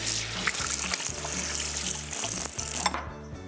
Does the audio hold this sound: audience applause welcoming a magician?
no